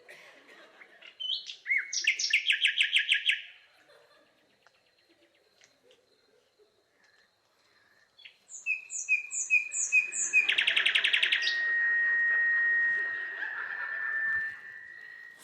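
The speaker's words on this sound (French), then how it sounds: "on écoute le bruit des oiseaux" Birds chirping and singing outdoors in bursts of bright, rapid trills, with a pause of near-quiet between phrases, then a denser stretch of overlapping calls and a sustained whistled tone, close and clear.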